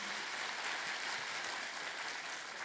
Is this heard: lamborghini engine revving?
no